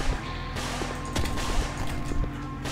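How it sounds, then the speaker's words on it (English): Rapid bursts of enemy gunfire in the video game Midnight Ultra, loud and dense, crackling shots overlapping with game music and effects. "You, stop shooting at me."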